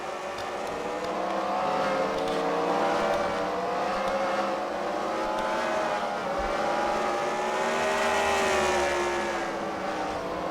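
Race car engines roaring past at a CWRL Fight Night race at The Freedom Factory, with rising and falling pitch, loud and continuous, several cars blending together.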